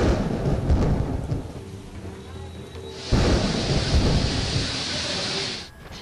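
A thunderstorm of a squall rolls through, with steady rain hissing on surfaces and a loud broad rumble of thunder surging in midway, then easing off near the end.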